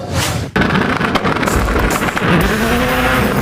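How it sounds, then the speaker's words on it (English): A race car engine roars loudly nearby at the SEMA Show, rising in pitch as the turbo spools up, with a brief dip before the power surges again. "Listen to that turbo spool up."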